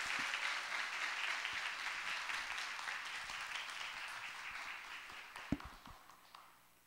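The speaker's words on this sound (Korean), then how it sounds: "우리 박수로 환영합니다." A church congregation gives sustained applause to welcome a classical singer at a Korean holiness church service. The clapping is moderately faint and steady, thins out toward the end, and a few isolated sharp claps come near the close.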